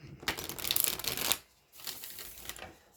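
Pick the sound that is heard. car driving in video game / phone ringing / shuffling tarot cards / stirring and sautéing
shuffling tarot cards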